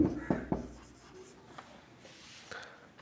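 A pen scratches briefly on paper during an English revision lesson, with a few short strokes and taps up close, faint and quiet.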